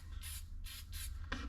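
Quick hissing bursts of spray paint hit an old car door panel as it gets a light coat, with four short blasts in about a second and a half against a low background hum.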